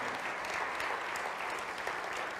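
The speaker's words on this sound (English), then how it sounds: "let's give them a round of applause" A church congregation at a combined Sunday service gives a round of applause, a continuous even wash of many hands clapping at moderate distance throughout.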